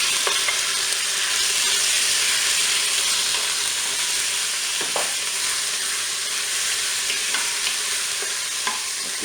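Onions and chicken pieces browning in a Cookeo multicooker, a steady close sizzle with frying crackle and a few soft stirring scrapes throughout.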